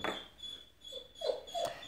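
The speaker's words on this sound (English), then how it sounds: "Sorry if you hear my brother's girlfriend's dog Lulu in the background" A small visiting dog whimpers faintly in the background, with a few soft high whines near the end over a quiet room hum.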